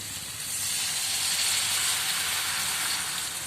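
Water poured into a hot pan of mixed vegetables for a Bengali vegetable dish sets off a loud, close burst of steamy hiss and sizzle that swells quickly and holds steady.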